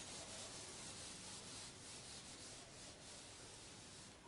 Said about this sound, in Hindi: थोड़ा सा मैं यहाँ पे रब करके लिख देता हूँ